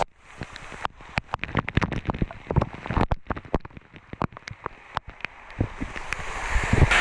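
Rain falls during a Honda motorcycle trip from Tiruvannamalai to Kuppanatham Dam. Close drops patter and tap irregularly over a hiss that builds louder toward the end.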